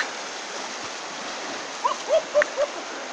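Steady rushing river water flows continuously in Kalinga, with a few faint bird chirps near the end.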